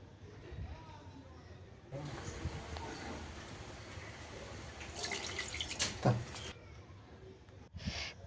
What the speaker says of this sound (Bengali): তো আমি এখানে জলটা ধরে নিয়ে 4 গ্লাস জল এতে অ্যাড করে দিলাম